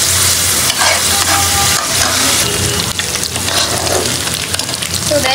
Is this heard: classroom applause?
no